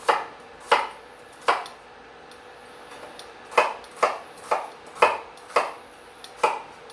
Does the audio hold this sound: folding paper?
no